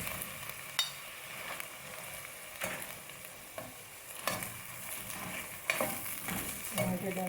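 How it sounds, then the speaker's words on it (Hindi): Tomatoes fry with ginger-garlic paste in a pan, giving a faint steady sizzle punctuated by irregular sharp scrapes and knocks of a spoon stirring every second or so. "टमाटर डाल के भून लेंगे अच्छी तरह"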